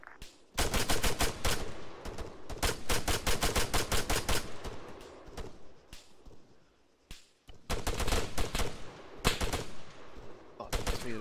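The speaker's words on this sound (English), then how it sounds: "Oh, that's me under fire as well." Heavy gunfire during a milsim firefight operation, with long bursts of rapid automatic shots, close and loud, a brief lull midway, then more sustained fire.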